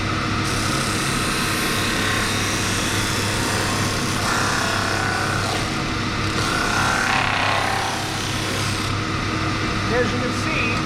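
A woodworking belt/disc sander runs with a steady, even mechanical hum and whir that holds constant throughout, with no breaks or changes in pitch.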